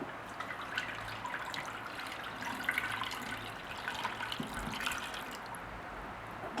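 A buttery mixture for salmon on mashed potatoes is poured and drained, giving a faint, continuous liquid trickle and splatter with small drips and clinks, no talking.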